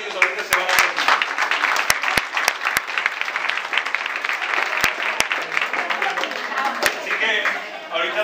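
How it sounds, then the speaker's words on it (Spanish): Steady applause from a crowd fills the whole stretch, dense clapping with a few sharp louder claps standing out. "le damos un fuerte aplauso"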